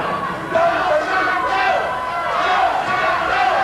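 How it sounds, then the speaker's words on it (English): A wrestling crowd at a classic rasslin' event chants 'Let's go, Shaun' in a loud, steady, rhythmic roar that fills the whole stretch without a break. "the crowd's coming up with "Let's go, Shaun.""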